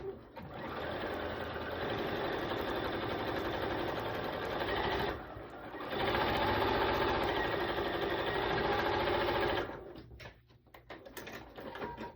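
A sewing machine runs steadily while stitching a quilt block, a close continuous mechanical whir that pauses briefly, resumes, then stops, followed by faint handling sounds.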